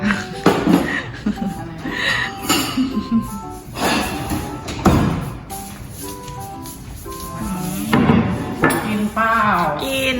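Ceramic plates and cutlery clinking and clattering in a home kitchen as someone digs through them looking for a plate, the sharp knocks coming in irregular bursts while voices speak now and then.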